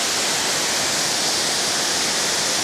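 Showerhead Waterfall at Cat Cat Village in Sapa, Vietnam, pours onto stones in a steady, close, loud rush of falling water, with no voices over it.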